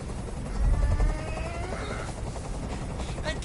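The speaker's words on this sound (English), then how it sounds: "Tell that helicopter to get out of here!" Helicopter in the video game Detroit: Become Human, a steady low rotor rumble that swells early and then holds as a constant background drone, with voices and game sounds layered over it.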